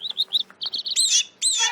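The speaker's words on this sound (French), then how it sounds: "j'y suis juste allée pour enregistrer le chant de son canari" A canary sings alone in quick bright chirps and short trills, several separate notes followed by longer warbled phrases, close and clear with no talk.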